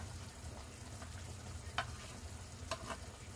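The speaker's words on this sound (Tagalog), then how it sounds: "Lalagay ko na yung ating carrots. Pati yung ating siling green." Carrots and green chili go into a pan of frying Filipino menudo, giving a steady low sizzle with a few sharp clicks of stirring, quiet and close, no talking.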